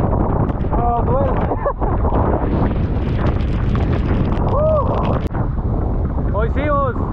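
Strong wind and rain lash an island coast in Guatemala during a hurricane-like storm, a constant loud roar of gusts buffeting the microphone throughout, with people shouting and talking over it.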